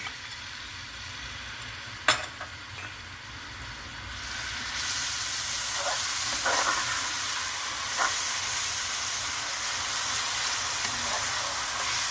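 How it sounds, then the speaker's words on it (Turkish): Steady hissing sizzle of finely chopped onions sautéing in olive oil, with a few clinks and stirring scrapes, continuing throughout. "Bir iki dakika kavuruyorum."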